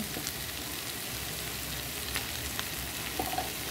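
Steady low sizzle of potatoes frying in a pan with turmeric, a continuous crackling hiss with a few brief pops and clinks near the end.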